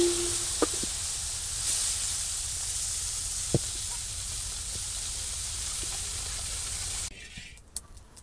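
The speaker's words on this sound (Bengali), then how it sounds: "এই জন্য চিংড়ি মাছটা ভেজে নেব আগে।" Shrimp frying in hot oil in a village kitchen: a steady, close broadband sizzle and hiss with a few faint clicks, dropping away near the end.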